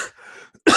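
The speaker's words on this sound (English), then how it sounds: "I still have this lingering bronchial cough" A lingering bronchial cough: a short throaty rasp first, a quiet pause, then one sharp, loud cough burst at the end, close and alone.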